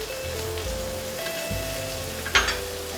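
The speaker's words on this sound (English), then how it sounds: "So we're gonna go ahead and throw our butter in there." Butter hitting a hot pan beside a seared steak sends up a steady close sizzle and crackle throughout, with a sharper spitting burst near the end.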